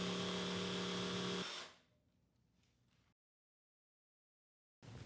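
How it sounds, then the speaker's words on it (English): A jigsaw cuts through a thick router table top. A loud, steady motor whine runs for about a second and a half, then winds down and fades into faint background before dropping to silence. "Don't try to force the jigsaw. Allow the blade to do the work to prevent it from deflecting in the cut."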